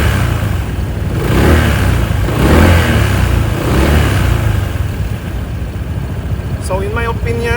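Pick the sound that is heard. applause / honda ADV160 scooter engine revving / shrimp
honda ADV160 scooter engine revving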